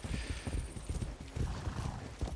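Horse hooves clip-clop in a rapid, uneven rhythm as a rider gallops through Far Cry 6, fairly close and quiet, with a short whinny partway through.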